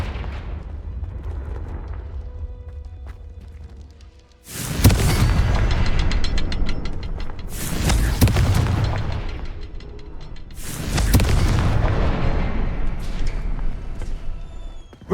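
Confringo blasting spells go off in Hogwarts Legacy: three loud, deep booming explosions a few seconds apart, each with a rumbling, crackling tail, after a quieter stretch of game ambience.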